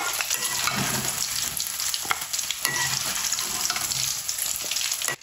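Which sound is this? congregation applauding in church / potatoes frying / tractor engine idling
potatoes frying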